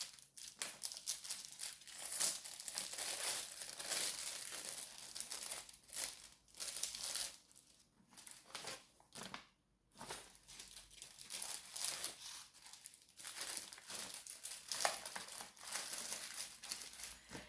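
Sheet of paper folded back by hand during a craft project, giving close, continuous crinkling and rustling with brief crisp bursts and a short pause midway.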